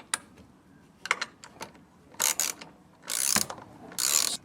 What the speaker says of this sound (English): the next thing we're doing here is just nipping the four nuts up